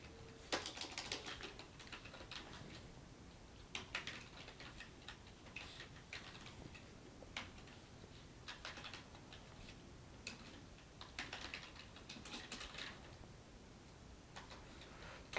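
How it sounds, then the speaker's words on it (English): Quiet clicking on a computer keyboard, with irregular bursts of keystrokes and short pauses, close but faint, and no one talking. "let's type it right this time"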